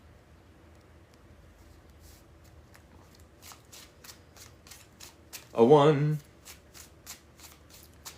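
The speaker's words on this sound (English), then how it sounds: "Let's do 3 more shuffles, shall we?" A deck of playing cards is shuffled up close in one quick riffle burst, with soft ticking card sounds before and after and light speech around it.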